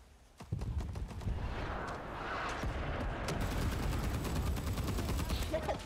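Machine gun fire in the video game Rising Storm 2: Vietnam, a dense, continuous stream of rapid shots after a sharp onset, loud and sustained throughout with no talk.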